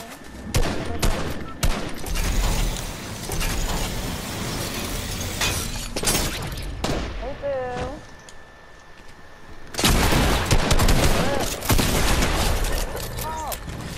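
Rapid bursts of gunfire in a Fortnite match, loud bursts of shots with brief lulls and a resumed barrage near the end, with someone talking over the shooting.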